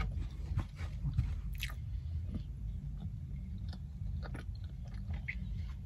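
Close, wet chewing of a chocolate chunk donut, with soft irregular bites and mouth noises running steadily throughout, no talking.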